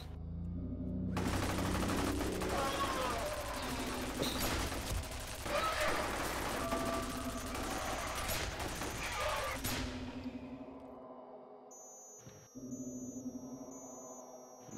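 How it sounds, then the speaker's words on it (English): In a video game turret section, a loud barrage of rapid gunfire with mechanical movement runs for about ten seconds, then cuts to a quieter stretch with faint tones and a low hum. "Love the turret moving sound."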